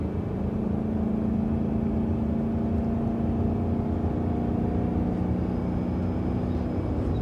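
A BMW E92 M3 engine drones steadily throughout, a low sustained hum with a faint rising whine, like a car cruising along at constant speed.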